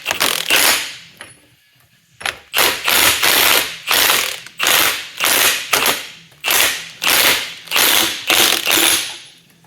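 Ratchet wrench checking pinion torque on a 9 inch axle: about ten loud, close bursts of rapid clicking, each a second or so long, separated by short pauses in a steady rhythm.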